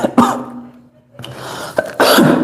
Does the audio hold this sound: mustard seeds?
no